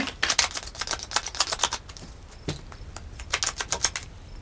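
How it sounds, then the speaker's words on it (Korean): Tarot cards shuffled and drawn by hand, a quick run of crisp flicking and snapping card sounds in bursts with short pauses, close and fairly clear. "카드를 조금 더 뽑아볼게요."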